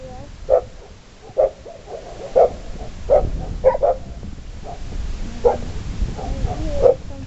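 A Golden Retriever barks outdoors in a snowstorm, about eight to ten sharp, moderately close barks spaced irregularly over a low background rumble.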